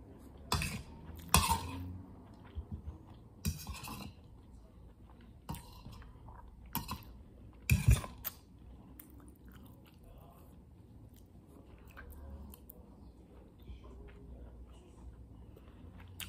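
Close, quiet chewing and biting of a salad with feta cheese, quinoa and hard-boiled egg, with a few sharp clinks of cutlery against a dish between softer mouth sounds.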